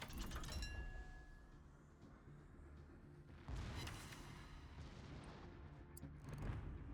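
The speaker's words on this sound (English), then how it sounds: "main batteries fire to salvo" Heavy naval gunfire from the Sibir's main batteries in World of Warships, a deep rumbling salvo with a sharp renewed boom midway, loud and continuous with distant low thuds trailing behind.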